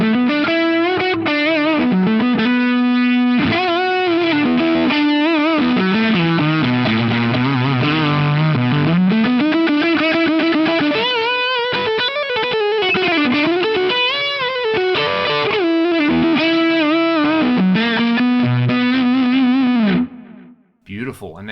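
Electric guitar run through stacked drive pedals on a Fractal FM3 with the guitar volume turned all the way up, playing a loud, saturated, sustained riff with chorus-like shimmer for about twenty seconds before stopping abruptly.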